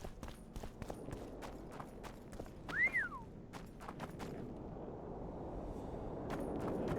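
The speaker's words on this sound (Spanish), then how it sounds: "¿Ese hombre me ha silbado?" A man whistles once in The Witcher 2, a short rising-then-falling whistle amid clip-clopping footsteps and other game noises.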